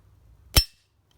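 A single sharp, cracking gunshot from a Lieferer 1001 .22 LR sport rifle, close and loud, cutting off quickly against a quiet background.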